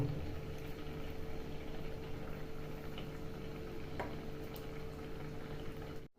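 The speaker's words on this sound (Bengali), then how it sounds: "এখন মাছগুলি এখানে সুন্দরভাবে সেদ্ধ হবে" Fish curry gravy with fried kanla fish bubbles steadily in a pot, a soft continuous simmer with faint pops and a low hum, no talking.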